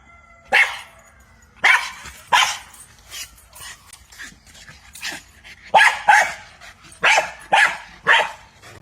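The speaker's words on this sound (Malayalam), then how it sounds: "ഒരു പൊമേറിയൻ പട്ടിയെ വാങ്ങിച്ച് ചങ്ങലക്കിട്ടിരിക്കുക" Barking from a chained Pomeranian dog, a run of sharp, loud yaps in uneven bursts, some in quick pairs and triplets, close by with no talking.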